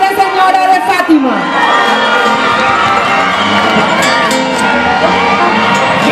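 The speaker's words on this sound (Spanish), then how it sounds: "Un fuerte aplauso para Dana Valentina del Peón de la Institución Educativa" A large crowd at a student folklore festival in Ibagué cheers, whoops and shouts for a student performer, a continuous loud roar of voices with excited children's yells and a nearby announcer's voice over it.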